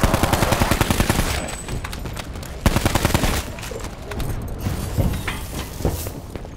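Rapid automatic gunfire in Black Ops 4 Zombies, a dense stream of loud shots rattling continuously for several seconds, with brief lulls and a heavier burst midway, no voices over it.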